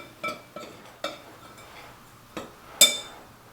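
A spoon clinks against a small baking dish while apple crisp topping is stirred together, giving five sharp, separate taps spread unevenly over a quiet background, the last one brightest.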